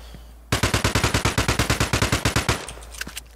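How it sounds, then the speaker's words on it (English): SMG fire in the shooter game Exverse, one sustained burst of about twenty fast, evenly spaced shots, loud and close, then a few scattered faint sounds. "Okay, so SMG from that range,"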